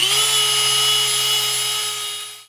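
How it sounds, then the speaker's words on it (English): A Dremel rotary tool grinds excess resin and fiberglass off a car body rust repair, a loud, steady high-pitched whine that runs close and alone before cutting off at the end. "I'm just using the Dremel to file off any excess resin and fiberglass that I don't need"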